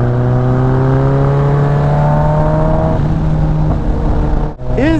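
A Kawasaki ZX14r sport motorcycle drones steadily under a rider on a curvy road, its engine holding a loud, even pitch that climbs slightly before a brief dip and a quick rise near the end, with no talking.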